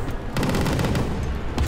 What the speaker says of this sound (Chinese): 它的防空火炮可以打好远